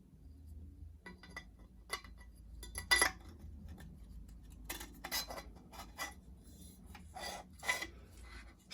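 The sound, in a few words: airsoft hop-up unit inserted into VSR-10 outer barrel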